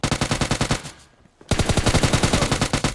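Rapid automatic gunfire rattles in a shooting video game, a loud sustained burst that breaks off for a moment of near silence and then resumes just as hard, with no voices over it.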